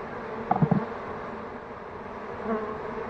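Honeybees buzz around a nest being cut out of a house due for demolition, with a low, steady hum and a few louder close-in buzzes near the start.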